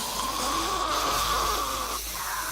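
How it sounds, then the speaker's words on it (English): Heavy, rasping breathing from a creature in a Warhammer 40k video game, a steady snore-like drone held close and loud under constant game ambience for the whole stretch, easing briefly near the end. "I can hear him breathing heavily."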